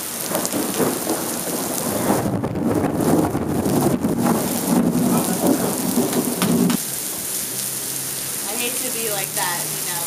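A big thunderstorm with a loud rumble of thunder rolling over steady heavy rain and wind buffeting the microphone, the storm noise easing slightly near the end while rain continues.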